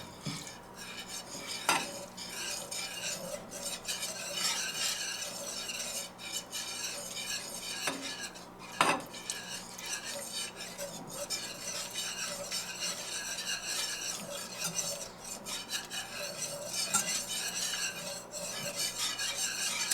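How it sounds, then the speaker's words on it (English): A spoon or whisk stirs flour and butter with milk into a roux in a pot over medium heat, a steady close scraping and swishing with occasional clinks against the metal. "We're gonna mix our flour in with our butter real good. And we're gonna gradually add in our milk."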